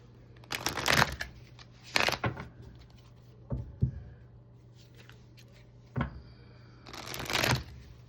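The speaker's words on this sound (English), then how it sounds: "I'm going to pull a couple of Oracle cards just to see if there's anything that wants to come out there" A deck of oracle cards is shuffled and cut in a quiet room, producing several separate riffling bursts of crisp paper flutter, each a second or so long, with soft handling taps between them.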